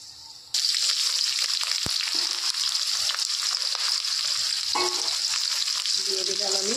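Bay leaf and whole garam masala dropped into hot oil for a mutton curry, bursting into a loud, close, constant hiss after a brief quiet start, with a few clinks of the pan and no speech.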